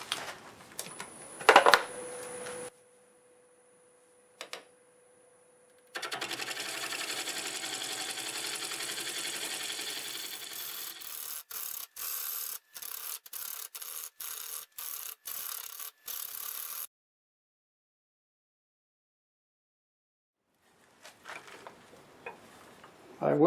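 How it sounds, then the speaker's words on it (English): Camellia stump spinning on a wood lathe while a gouge shaves off material in bursts, with a rough scraping hiss, brief stops and restarts, then a quiet pause before work resumes. "I'm going to switch back to the sweat back gouge and just kind of sneak some of this material off"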